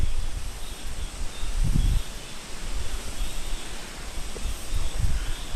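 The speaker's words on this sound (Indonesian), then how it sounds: "Di awal pendakian, di sini anginnya sangat kencang" Strong wind blows across a quiet mountain trail on Munsusan in Korea, a steady rushing roar with low gusty buffeting against the microphone.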